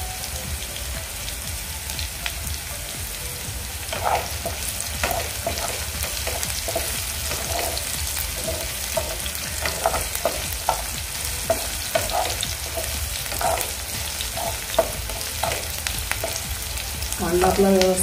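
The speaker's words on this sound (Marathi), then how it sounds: "कांदा आपला व्यवस्थित परतून झाला आहे।" Onion sautéing in a pan for a cabbage and chana dal dish crackles with a dense, continuous sizzle close by, occasional stirring scrapes rising through it, no one speaking.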